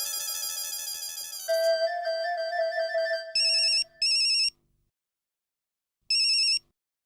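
A phone ringtone plays loud and close as a call is placed, starting with a sustained melodic tone, then breaking into short repeated beeping bursts separated by silence.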